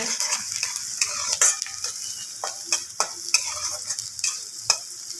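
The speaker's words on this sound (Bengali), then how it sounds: "দেখুন লাল লাল করে কত সুন্দর ভাজা হয়ে যাচ্ছে।" Snake gourd fries in a pan with a near, hissing sizzle, punctuated by irregular metal clinks and scrapes of a utensil stirring against the pan. No speech.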